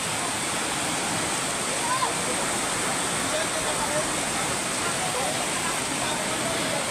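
Floodwater from a swollen small river surges near a bridge, a loud, steady, broadband rushing roar that fills the whole clip without pause.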